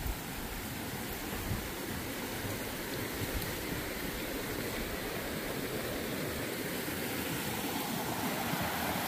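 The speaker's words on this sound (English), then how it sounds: "This water is flowing off the Griffith Lake, I believe is what's out that way. Really coming down." Fast-flowing stream water rushes in a dense, steady roar, close and loud throughout, with no voices; it runs off Griffith Lake on the Appalachian Trail.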